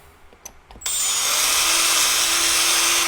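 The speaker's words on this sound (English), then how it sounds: "Go ahead and drill all these out." A power drill with a kit-supplied bit reams out holes in a plastic part of an Arrma Talion EXB RC car, spinning up after a few light taps into a loud, steady high whine.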